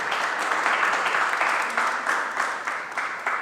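Applause from a ceremony audience at a Ministry of Public Utilities event distributing letters of approval, a steady dense wash of many hands clapping that holds evenly throughout at close range.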